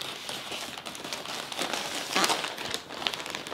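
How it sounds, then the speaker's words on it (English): A plastic yarn bag crinkles and rustles up close as it is cut open with scissors and pulled open, with a few sharper crackles. "let's go ahead and jump into opening this yarn bag"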